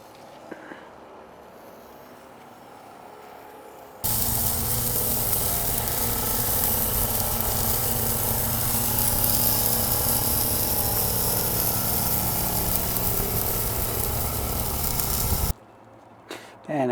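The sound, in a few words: mushroom quesadilla sizzling on a hot griddle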